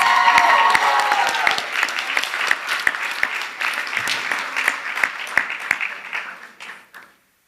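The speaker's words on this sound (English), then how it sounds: "Let's hear a huge round of applause." Audience applause fills a hall at a Bharatanatyam arangetram, a dense burst of clapping that starts loud, holds steady, then thins and fades out near the end, with a few voices faintly under it.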